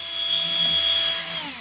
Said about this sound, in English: We're just going to spin it with this drill.